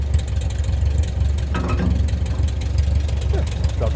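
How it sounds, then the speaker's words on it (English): A tractor engine with a PTO and 3-point hitch idles steadily nearby, a continuous low rumble under brief bits of talk, while it is prepared for a snowstorm. "That's the tractor."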